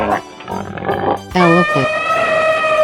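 A pig oinks in a 3D animal sliding game, a short grunting squeal standing out over busy, cartoonish game sounds and music, fairly loud and close.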